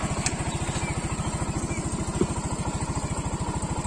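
A Yamaha Soul GT scooter engine idles with a quick, even putter of regular pulses, moderately close and steady, with a faint click partway through.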